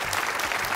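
A high school quiz show team gets a short, dense burst of applause from the audience, bright and even, lasting under a second.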